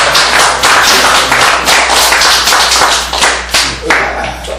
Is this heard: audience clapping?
yes